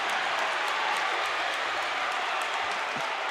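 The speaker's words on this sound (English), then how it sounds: "As the crowd here is fired up." A basketball crowd cheers after a great play, a steady wash of roaring voices and clapping at a gym game that holds loud and even throughout.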